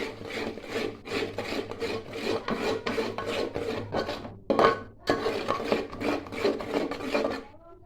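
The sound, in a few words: mixing red chili masala for crab curry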